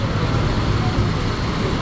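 Dense, steady traffic noise from a jammed one-way street in New Manila, Quezon City, with a large trailer van in the mix: a constant loud roar of engines and idling buses and cars, close by, with no breaks.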